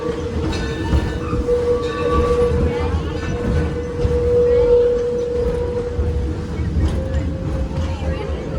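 A steam locomotive train rumbles steadily with a sustained tonal hum from the engine, while a crowd murmurs faintly in the background.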